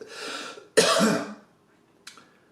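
A short throaty cough burst, then a second harsher one, with a brief faint cough afterward; close and fairly loud, no talking.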